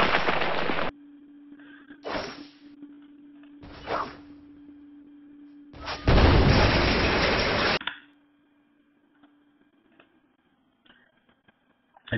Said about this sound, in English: So I connect, now there's the explosion.